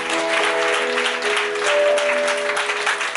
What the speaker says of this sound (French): On acclame très fort le Seigneur Jésus.